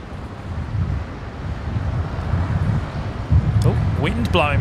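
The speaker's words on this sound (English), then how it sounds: "Oh, wind blowing me about a bit." Wind buffeting a microphone outdoors at an airport plane-spotting spot, a loud rumbling low roar that swells and gusts throughout, with a person's voice briefly audible near the end.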